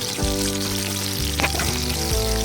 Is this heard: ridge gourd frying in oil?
yes